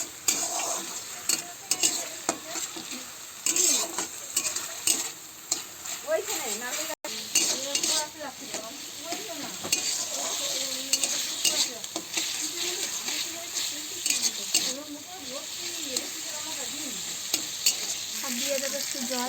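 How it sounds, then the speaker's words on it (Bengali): Chopped tomato is stirred through a sizzling frying pan for chana masala, a steady frying hiss broken by repeated scraping and clinks of the spoon against the pan, with a voice heard faintly at times. "নিয়ে এবার ভালো করে নাড়িয়ে নেব"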